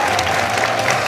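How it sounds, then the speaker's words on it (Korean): Studio audience applauding on a Korean variety show, a dense steady burst of clapping filling the room at close range. "박수 한번 주세요"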